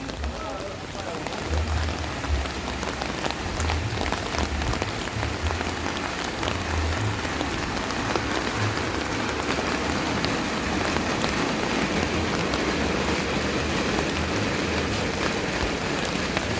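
Steady rain falls outdoors during a walk, a continuous dense hiss that carries through the whole stretch at an even level, with no talking over it.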